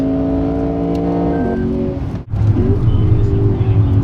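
A 2016 Lexus GS F on a race track shifts and then accelerates hard, its loud engine note climbing steadily from the driver's seat perspective, with a brief dip at the gear change.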